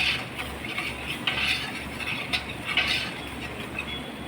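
Onions stirred in a pan with coriander, chili and turmeric powders, the spoon scraping in repeated rhythmic strokes over a low steady sizzle, close and fairly loud.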